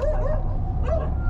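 Street dogs in Rameshwaram bark and yip at an auto-rickshaw, a quick pair of close, high barks with a whiny edge in a short burst.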